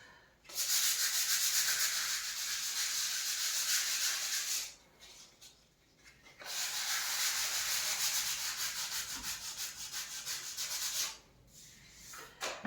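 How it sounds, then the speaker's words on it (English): Steady hand sanding rasps back and forth across a bedroom wall in two long stretches, separated by a brief pause, close and fairly loud. "So I'm gonna just do a wee bit more sanding."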